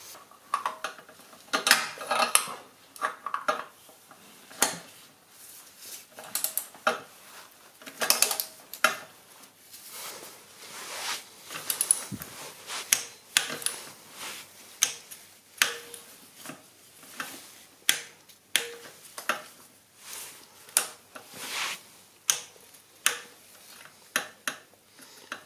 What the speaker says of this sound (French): Là j'ai dû prendre comme si une clé dynamo en 1/4.